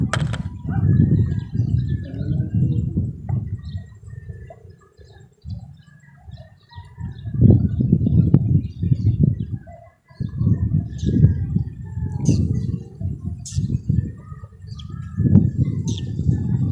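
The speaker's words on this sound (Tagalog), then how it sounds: "Ano pang mga ibon yan?" Deep, repeated cooing calls from doves roll on through the clip, close and prominent, with faint chirps scattered above them, in woodland by Laguna Lake.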